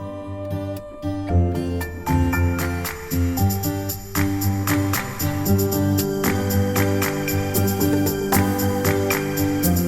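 Lively adaptive open-world video game exploration music with layered melodic instruments and a steady beat, building from a sparse opening into a fuller, busier arrangement.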